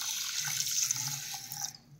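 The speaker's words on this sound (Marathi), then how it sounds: "आता आपण डाळ आणि तांदूळ स्वच्छ धुवून घेऊयात।" Toor dal and rice are rinsed under running water in a kitchen for dal khichdi. A close, hissing stream splashes steadily, then stops abruptly near the end.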